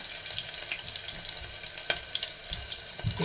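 Green chillies hiss and crackle as they drop into hot oil for vangi bhaat (brinjal rice), a steady close frying sizzle with small pops and no talk.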